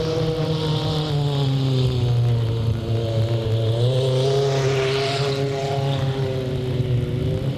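Race car engines at Delta Speedway in 1998 drone loudly and continuously, their whining pitch rising and falling as the cars circle the oval, with no voices over the noise.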